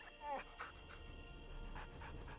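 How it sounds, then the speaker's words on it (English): A video game dog whimpers faintly, with a brief bark-like yelp, low under a steady game soundtrack and ambient hum. "Whose dog is this?"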